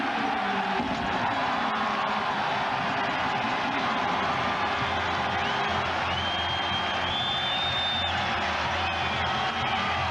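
A stadium crowd at Molson Stadium stands and cheers after an Alouettes touchdown in the 2000 CFL East Final against Winnipeg, a sustained roar with whoops and whistles and a voice talking over it.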